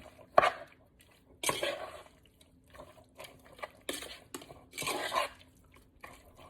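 Lemongrass paste being mixed with fish sauce for a pork sparerib sour soup: scattered clinks and scrapes of a utensil against a bowl, several sharp knocks with quiet gaps between, close and fairly faint.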